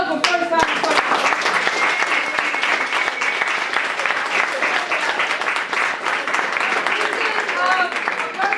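An audience at a live stage event applauding loudly and steadily for a first-time performer, a dense wash of clapping that continues throughout, with voices mixed in among the crowd.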